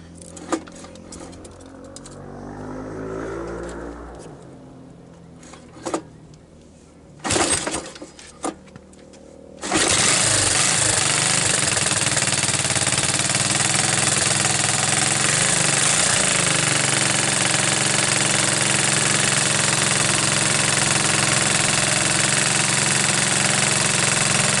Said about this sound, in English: let's see if we can't rope start this thing